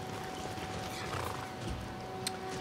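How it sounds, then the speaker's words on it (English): A horse in the Skyrim video game whinnies briefly amid a dense, noisy game soundscape, the neigh fairly faint against steady background sound. "That's Kajo's horse."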